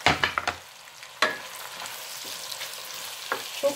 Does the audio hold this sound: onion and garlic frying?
yes